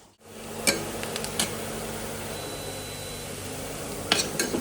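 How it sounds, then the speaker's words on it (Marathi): Onions fry in oil to golden brown on an infrared cooktop, a low, even sizzle broken by a few sharp clinks of a utensil against the pan, near and with no talk. "कांदा भाजत आलाय, परतून झालेला आहे आपला गोल्डन ब्राऊन रंगावर."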